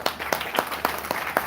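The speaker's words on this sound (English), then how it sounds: "Big round of applause for Larry Sharp, everybody" Audience applause at a libertarian party social gathering, a small group clapping with distinct rhythmic claps roughly every quarter second, close and moderately loud.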